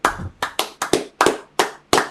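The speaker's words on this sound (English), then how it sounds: "Clap it up for the brother." Scattered claps from a small audience at a Day of Atonement gathering in Milwaukee, about eight sharp separate hand claps at an uneven pace, close and fairly loud with no talking.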